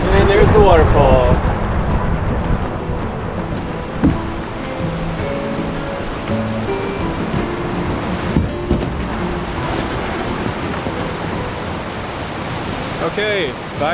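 A waterfall in a remote canyon pours with a constant broadband rush of falling water, steady and fairly loud, with a brief voice near the start and end.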